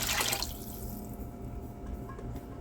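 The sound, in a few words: can of water poured into spaghetti sauce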